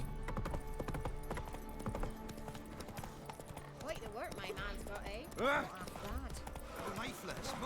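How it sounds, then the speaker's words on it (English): Hooves of Roach, the horse in The Witcher 3, clip-clop steadily beneath game music and someone talking over it, with a short louder burst partway through. "Der Roach, die Roach."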